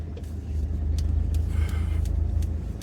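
A car rolls in to park at a roadside spot in the United States, its engine a close, low, steady rumble that holds evenly while faint chatter sits in the background.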